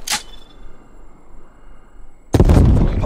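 Frag grenade bursting in Call of Duty Cold War: a sharp short pop at the start, a quiet lull, then a loud heavy blast rumbling out to the end, with no voices.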